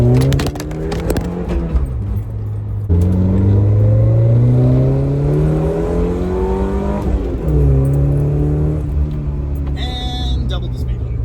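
A 1981 Dodge Challenger's engine pulls hard through its gears. The pitch climbs in long sweeps, drops sharply at each shift and climbs again, loud and close, with a brief high whir near the end.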